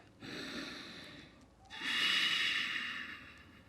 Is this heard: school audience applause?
no